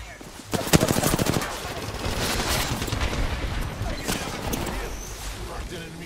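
Gunfire in a video game erupts as a fast rattling burst of shots early on, then gives way to a dense, steady roar of combat noise with a voice speaking over it.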